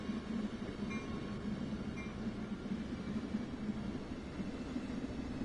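A train in Train Sim World 2 on the Peninsula Corridor runs steadily, a faint, even low rumble and rolling drone with no talk.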